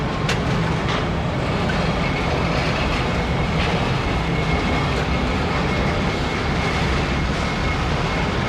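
A freight train carrying containers rolls along the rails with a continuous loud rumble and faint rhythmic clicks of the wheels.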